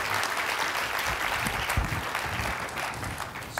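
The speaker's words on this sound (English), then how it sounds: "Please join me in giving them an applause." Audience applause at a healthcare forum, a dense steady wash of clapping from a seated crowd that holds evenly for a few seconds.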